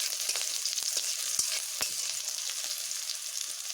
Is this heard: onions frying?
yes